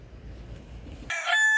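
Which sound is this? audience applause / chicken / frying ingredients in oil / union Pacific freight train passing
chicken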